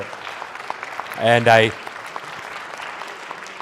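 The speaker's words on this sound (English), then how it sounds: "One more round of applause for these guys." A church congregation applauds faintly after a sermon on the creeds and the resurrection, a light scattered patter that continues while someone briefly speaks over it.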